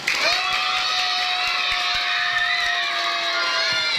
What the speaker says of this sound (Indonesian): Tepuk tangannya semuanya.